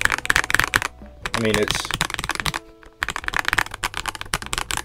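A stock mechanical keyboard with Akko Starfish switches and plumber's-mod stabilizers is typed on in rapid, dense bursts of close, crisp clacks, pausing briefly while someone speaks.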